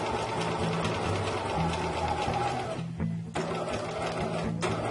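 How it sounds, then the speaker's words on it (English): A Bernina sewing machine stitches steadily in a continuous, close mechanical whir, pausing briefly near the middle as the fabric is pivoted, then running on again. "I'm using a big stitch, but usually I use about a number 3 on this Bernina."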